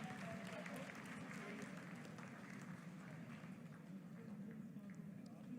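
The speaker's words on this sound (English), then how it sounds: "आप तालियों के गड़गड़ाहट से सुन सकते हैं" Faint, steady applause in mission control during the Chandrayaan-3 moon landing's vertical descent phase, heard distantly behind a low room hum and murmuring voices.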